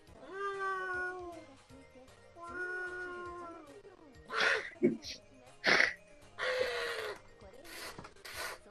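A person imitates a meowing cat with several drawn-out, wavering meows, followed by a few sharper breathy vocal bursts, fairly quiet and close.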